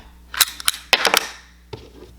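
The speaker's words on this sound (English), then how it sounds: "So if I slam it in, right, and it chambered around" A Makarov pistol magazine slams into the grip, chambering a round: a quick cluster of sharp metallic clacks and snaps, close and loud, followed by a fainter click.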